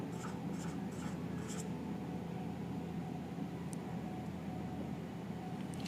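Pen scratching across paper as figures are written out for a class 12 accounting exercise on share issues, a steady soft scribble over a constant hiss, with a few brisk strokes early on.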